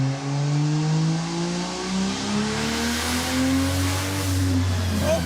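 A turbocharged Toyota 2JZ engine in a Dodge Charger revs hard toward 7,000 rpm on a dyno, a loud, sustained, rising roar heard up close with no voices.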